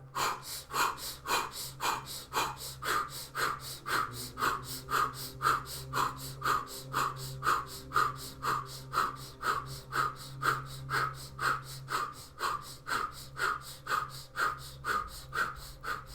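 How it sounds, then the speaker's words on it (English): Rhythmic breathing during a guided breathwork session, steady in-and-out breaths about once per second for the whole stretch. They are loud and close, with nothing else heard. "Breathing in through the nose."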